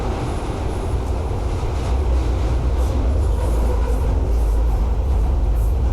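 London Overground train in the Fallout London video game, a steady loud rumbling roll with low-frequency drone throughout, continuous and close, no talking.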